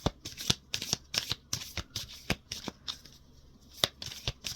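A deck of tarot cards is shuffled by hand in a quick run of crisp riffling slaps and flutters, close and fairly quiet, with a brief lull before a few final snaps.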